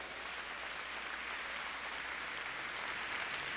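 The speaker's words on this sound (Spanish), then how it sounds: "Dele un aplauso al Señor en esta tarde." A church congregation applauds steadily, a dense wash of many hands clapping at a constant level from start to finish.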